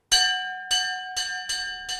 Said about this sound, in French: Ils entendent sonner la cloche.